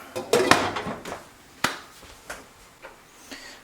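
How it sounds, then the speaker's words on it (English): A lid set onto a pan on a kitchen stove while Japanese hamburg steak cooks, giving a sharp metallic clatter followed by several lighter clinks and knocks, fairly quiet and close. "Put the lid on and let it cook."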